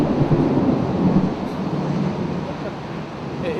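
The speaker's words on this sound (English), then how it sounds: "I feel a little bit small with all this thunder and lightning going on around me on my little bike." Deep rumbling thunder rolls through a storm around a small motorcycle, a broad low roar that fades slowly across the span, with no break in the noise.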